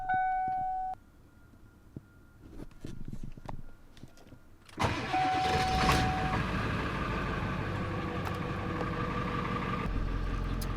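A cold Ford F250 OBS diesel truck cranks and fires up at about five seconds, then settles into a loud, steady idle. A short tonal chime plays before the start and another just after it, with no talking.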